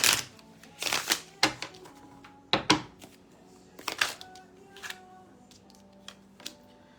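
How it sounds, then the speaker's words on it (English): A Hush Tarot card deck being shuffled close by, with a series of sharp, irregular riffling bursts and soft card slaps spaced across several seconds. "All right, let's use this Hush Tarot. Let me shuffle this real quick."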